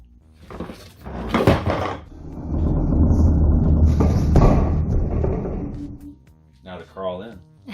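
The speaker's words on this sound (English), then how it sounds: "Now to test the door with the not-so-Powersword." A large-scale toy castle playset's jawbridge door, opened with a toy sword, gives a few sharp knocks followed by a long grinding, rumbling creak; a voice speaks at the end.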